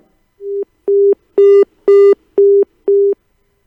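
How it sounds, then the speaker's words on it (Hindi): Telephone busy tone after a failed call connection: six evenly spaced electronic beeps, each about a quarter second long, loud and clean against silence. "लगता है तकनीकी खराबी के चलते हमारा संपर्क नहीं हो पाया।"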